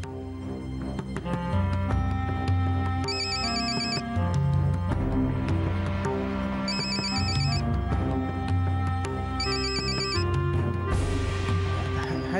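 A phone ringing unanswered in a domestic drama scene, a loud repeating melodic ringtone with bright chiming bursts that repeats steadily over a musical bed.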